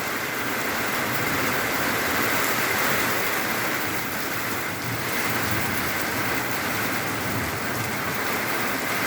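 Heavy rain pours down in a dense, steady roar, loud and unbroken, with no voices.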